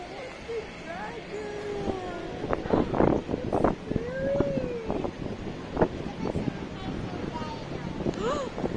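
Wind gusts buffet the microphone outdoors in a city park, a steady rumbling blow under several people talking and exclaiming.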